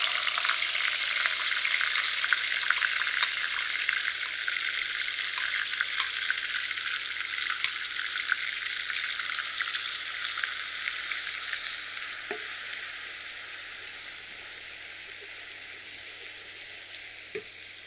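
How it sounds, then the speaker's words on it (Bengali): A paste of onion, garlic, ginger and green chili fries in oil with a bay leaf, giving a steady, close, dense sizzle that eases slightly toward the end, with a couple of faint utensil knocks and no talking. "আর এখানে সেই পেস্টটা, পেঁয়াজ, রসুন, আদা, কাঁচামরিচের পেস্ট, সেটা দিয়ে দিলাম"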